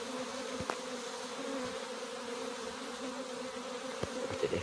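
A swarm of honeybees going into a box outdoors, a dense, steady buzzing hum of many bees close by, with occasional single bees droning past the microphone, no talking.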